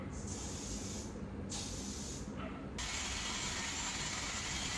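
Hair spray hisses onto a short bob in bursts: two brief sprays, a short pause, then one long continuous spray, close and steady with no talking.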